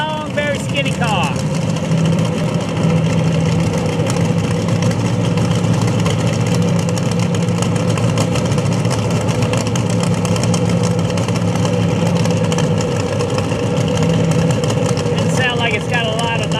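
A long, skinny Canadian alcohol top dragster runs at a drag strip during testing, its loud steady rumble droning without a break, with short revving flares near the start and the end.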